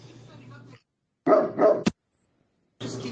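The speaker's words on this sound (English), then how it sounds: "Who's playing the dog?" A recorded dog barking sound played into a live online community voice chat, heard as short bursts of barking separated by silences, loud and close with no talk over it.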